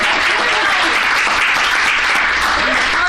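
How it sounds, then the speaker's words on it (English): A full, loud round of applause from a health equity policy council audience, dense and continuous for the whole stretch with no pauses. "I think we should give her a round of applause"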